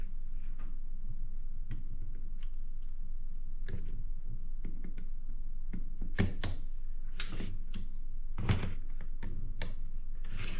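Irregular mechanical clacks and taps from an old typewriter mechanism sound close up, scattered sharp strikes with uneven spacing over a steady low hum, a few louder hits standing out near the end.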